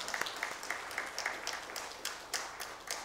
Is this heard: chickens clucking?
no